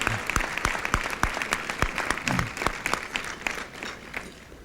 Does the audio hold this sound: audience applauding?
yes